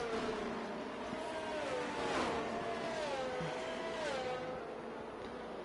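Race car engines droning steadily in a racing game as the field circles behind the safety car under caution at Qatar, with wavering pitch and no talk over it.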